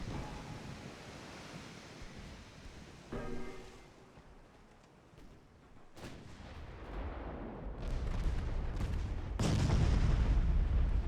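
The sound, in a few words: 10-inch naval guns firing and hitting in a video game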